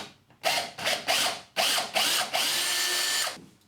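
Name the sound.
drilling fixing hole in plasterboard wall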